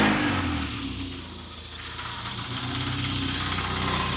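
A MK2 Golf GTI engine runs steadily with a broad, rough mechanical drone, loud and close, dipping slightly mid-way before settling back to a steady idle; no voices.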